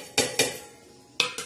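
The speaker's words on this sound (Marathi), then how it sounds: "तव्यावर अशी छान अशी तीळ आपण ही टाकलेली आहे" Sesame seeds tipped onto a hot tava griddle for roasting, heard as two quick rattling clatters, a quiet pause, then two more sharp scattering bursts close by.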